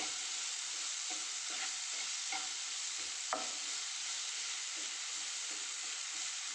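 Sliced onions and boiled potatoes are sautéed in a pan for a filled kozhukatta, giving a soft steady sizzle with a few faint scrapes as they are stirred. It sounds close and fairly quiet, with no talking.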